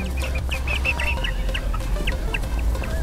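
Chickens cluck in a small backyard aviary, a run of short close clucks and chirpy calls over a low steady background hum, with no voices.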